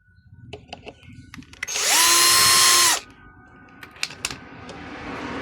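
A power drill whines for about a second as it backs screws out of a vacuum cleaner, a rising then steady motor pitch up close, surrounded by softer clicks and handling noises.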